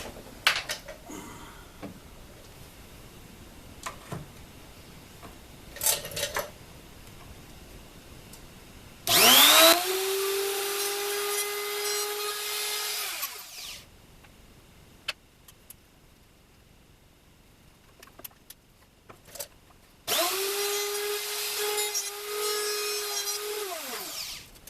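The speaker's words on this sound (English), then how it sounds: "I think I got to route it a little bit deeper" A router cuts into wood for a planer stand in two loud, sustained whining passes of several seconds each, separated by quiet stretches of faint handling taps and knocks close by.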